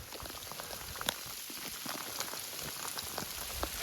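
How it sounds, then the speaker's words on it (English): Heavy rain patters steadily on surfaces outdoors near a hunting camp, a dense continuous hiss with scattered louder drops, close and alone without voices. "Rainy day, wet day."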